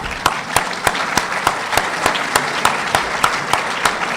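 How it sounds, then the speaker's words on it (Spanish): An audience at a summer talk in Mar del Plata claps in a sustained round of applause, with sharp rhythmic claps standing out at a steady beat over the general clapping. "Se merece un aplauso."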